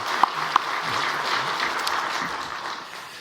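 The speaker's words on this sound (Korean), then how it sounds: "우리 다 함께 격려의 박수 한번 보내주시기 바랍니다" A church congregation applauds during a Sunday service, a steady wash of many hands clapping at moderate loudness throughout, with a couple of sharper knocks near the start.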